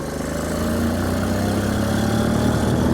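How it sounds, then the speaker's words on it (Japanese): Current-model Honda X-ADV motorcycle on a mountain pass road, its exhaust giving a loud, steady, throbbing engine drone close to the microphone throughout. "乗り味はまさにこの排気音の通りといった印象です。"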